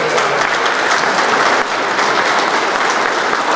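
A crowd applauds steadily at a change of command ceremony, the dense, loud clapping filling the room without pause.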